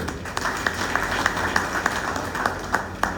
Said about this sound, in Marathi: सगळ्यांचे एक टाळ्या वाजोवन तांचे कौतुक करता